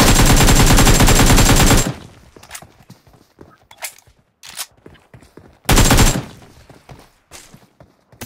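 Two loud, sustained bursts of rapid gunfire, separated by a stretch of scattered quieter clicks and knocks.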